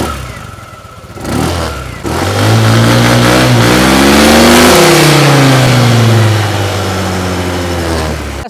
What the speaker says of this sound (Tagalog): Patulog naman ng muffler niya, ito paparinig ko sa inyo.